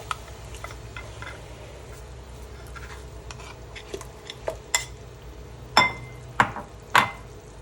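Tomato puree cooks in a pan for nargisi kofta, a low sizzle under intermittent scraping and stirring, with a few sharper utensil clicks near the end.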